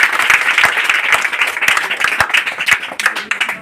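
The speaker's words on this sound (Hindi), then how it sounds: "इनके लिए तालियां होनी चाहिए।" An audience at a Teacher's Day event applauds a teacher with loud, crisp clapping that stays busy and close throughout, then starts to thin toward the end.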